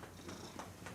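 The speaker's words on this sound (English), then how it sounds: "I hear you purring." A cat purrs softly in a quiet indoor setting, a low continuous rumble with faint rhythmic swells about every third of a second, steady and close with no talk over it.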